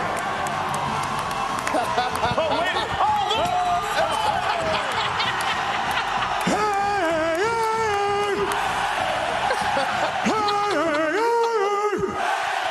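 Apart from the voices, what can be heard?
crowd cheering at College Game Day in Eugene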